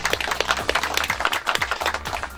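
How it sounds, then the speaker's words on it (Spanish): Crowd applause at a golf program event at Reserva Conchal in Costa Rica, a steady dense patter of many hands clapping close by for a couple of seconds. "quiero un fuerte aplauso para Reserva Conchal y Carlos por el apoyo al programa"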